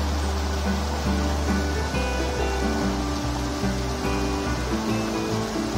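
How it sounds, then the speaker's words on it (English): Waterfall at the Forest Creek picnic area in Nantahala National Forest, heard as a steady, full rush of falling water that holds a constant level throughout, with faint tonal hum mixed in and no voices. "There's a waterfall over there."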